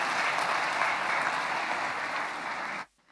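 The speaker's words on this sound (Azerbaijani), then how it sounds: "Alqışlarınızla." Steady crowd applause at a symphony orchestra concert in a university hall, loud and sustained for nearly three seconds before stopping abruptly into near silence.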